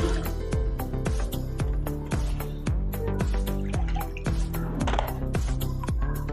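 Water splashes and drips steadily while food is rinsed clean in a home kitchen during preparation of a chicken and bitter gourd curry, a rapid run of close wet patters with no talking.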